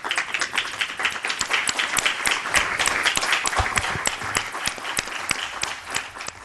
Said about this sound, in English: And look at the applause, Brooke.